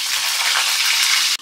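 Green chillies hit hot oil with cumin seeds in a wok, giving a loud, steady hissing sizzle that fills the moment and cuts off abruptly at the end.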